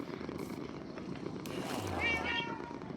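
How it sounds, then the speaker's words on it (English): A cat snores loudly nearby, a low, rough, purr-like rumble that repeats through the moment with no talk over it. "My cat snores so loudly."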